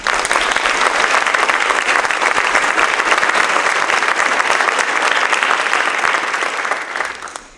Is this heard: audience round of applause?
yes